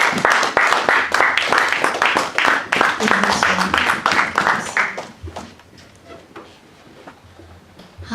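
A church congregation claps loudly in dense, continuous applause with voices mixed in, then the clapping fades out after about five seconds to a quieter room.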